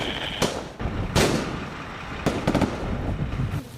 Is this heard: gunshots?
yes